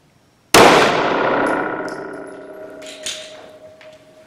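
A single sharp, loud gunshot from a Glock 19 pistol firing Remington Golden Saber 124 +P ammunition into ballistic gel at seven yards rings out, followed by a long, echoing decay.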